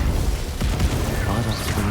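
Incendio fire spell cast in the video game Hogwarts Legacy, a dense rumbling burst of flame with crackling, booming bass and a faint high whoosh, loud and sustained across two seconds.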